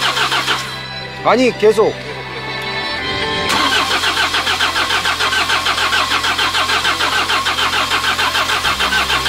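A diesel engine cranks with a rising whine, stalls briefly, then catches and settles into a steady, loud idle; a voice speaks briefly at the start.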